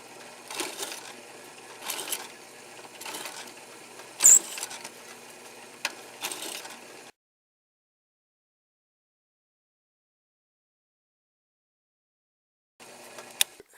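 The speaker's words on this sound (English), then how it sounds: "you can then run it back through the drill again, and that'll just open up the hole" Power drill re-boring quarter-inch bolt holes in scrap metal plates for an HHO dry cell generator, heard as several loud grinding bursts with a sharp clank, then silence and a brief final burst.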